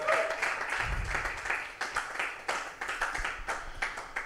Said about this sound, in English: give those two leaders a round of applause for giving big tonight